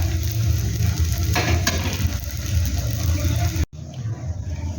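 A potato and egg pancake fries in a pan with a steady, close sizzle and crackle, a brief scraping stir partway through, then a sudden dip before the sizzle resumes more quietly.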